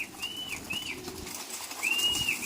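Pigeons in a loft coo and call at close range, soft rolling coos repeating over a bustle of birds, with faint wing movement and no talking.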